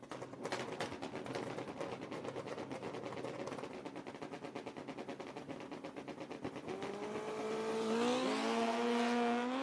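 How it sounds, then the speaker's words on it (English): Drag racing motorcycles, a Fuel Tech powered Hayabusa on a Bill Bear chassis and a Kawasaki KZ, rattle with rapid popping engine pulses before a rising, screaming rev as they launch, heard from a distance. "Bradley Shellhouse, on a beautiful small tire Hayabusa. Bill Bear chassis, Fuel Tech powered."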